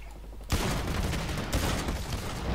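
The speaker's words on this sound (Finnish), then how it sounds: "mä vahingossa poimin maasta tommosen jonkun superpyssyn, niin piti nyt vähän ammuskella sen." Sustained rapid gunfire from a super gun picked up in the shooter video game Blacklight Retribution, a dense loud continuous burst starting abruptly and running to the end.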